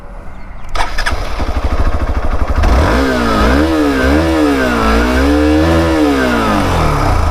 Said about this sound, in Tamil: அந்த ரெவ் வந்து பார்த்திங்கன்னா அவ்வளோ ஸ்மூத்தாக இருக்குது இந்த பைக்கில்